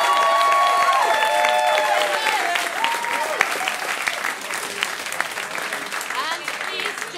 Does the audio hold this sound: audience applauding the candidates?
yes